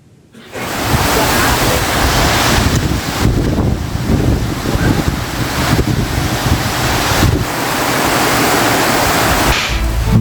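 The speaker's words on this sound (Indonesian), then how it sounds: "video amatir warga saat hujan deras disertai angin kencang menerjang wilayah Kabupaten Maros" A dense, steady roar of heavy rain mixed with strong gusting wind buffeting the microphone, loud and continuous with brief surges, in Maros Regency, Indonesia.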